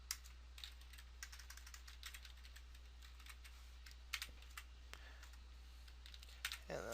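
Quiet keyboard typing while website text is entered, with scattered key taps and a few brief rapid runs over a low steady hum, faint and close.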